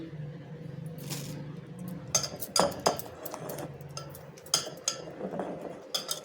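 A spoon mixes maida flour into idli batter in a bowl, clinking softly and unevenly against the sides, with a few sharper knocks between quieter stirring.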